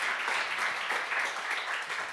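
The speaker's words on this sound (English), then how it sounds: "Everyone, please give them a round of applause as we close today." Audience applause closing a panel discussion on digital finance, an even, sustained patter of many hands clapping at moderate distance, alone without talk.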